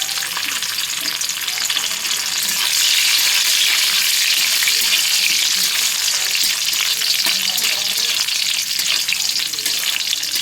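Cashews and raisins fry in a pan with a loud, steady, dense sizzle that holds unbroken throughout, with occasional faint stirring underneath.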